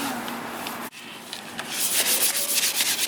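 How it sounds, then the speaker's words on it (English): Close, continuous sanding of a hard car part, J's Racing ducts for a Honda Civic Si FD2, rhythmic rubbing strokes that grow louder and brighter toward the end, with no talking. "So I'm just gonna continue sanding"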